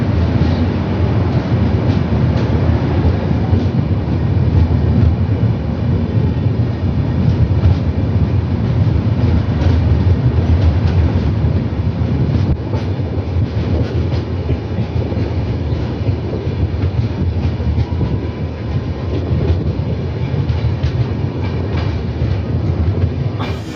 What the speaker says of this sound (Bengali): 1 ঘন্টা লেটে চলছে আমাদের ট্রেন